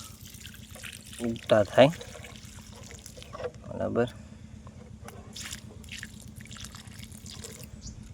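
Water trickles and drips onto white brinjal seedlings in a village farm plot, a few louder splashy bursts standing out over a soft, steady dribble, with someone talking over it.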